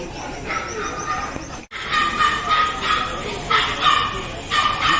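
Dogs at a dog market in Chatuchak, Bangkok, giving repeated high yips and barks at moderate distance over a busy crowd background, with a brief cut midway.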